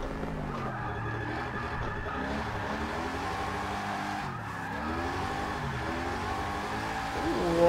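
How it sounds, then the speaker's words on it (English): Race cars in the video game Forza Motorsport 6 sound their engines close behind during a drift session, layered revving tones rising and falling steadily, with a surge at the very end. "I hear cars behind me."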